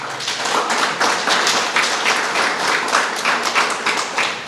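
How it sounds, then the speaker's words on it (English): A crowd at an ActionSA party gathering in South Africa applauds to welcome party president Herman Mashaba, a dense, steady wash of many hands clapping for several seconds with no talking over it. "If we can welcome him, all of us, with a round of applause."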